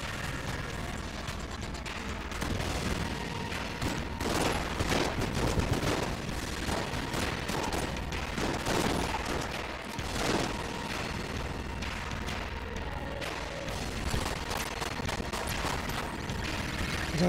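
Dense, continuous gunfire from the dungeon-crawler video game Enter the Gungeon, a steady rattling barrage of rapid shots filling the whole stretch at close range, with no talking over it.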